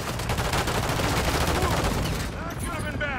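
Rapid automatic gunfire in a video game battle, dense continuous bursts of shots filling the whole stretch, loud and close, easing slightly near the end, with voices in the mix.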